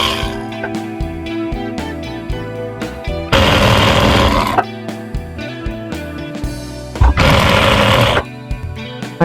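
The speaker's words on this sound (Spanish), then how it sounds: "hacemos costura y luego pasamos la máquina overlock" An overlock sewing machine stitches trouser fabric, running loud and close with a rapid mechanical hum in two sustained runs, separated by shorter stop-start bursts and clatter.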